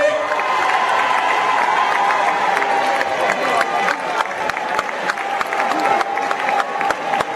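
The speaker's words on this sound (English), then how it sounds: "Gonna clap for the women's club." A large crowd at a national party delegates conference claps and cheers for the women's club, a dense, steady roar of applause and shouting with voices mixed in throughout.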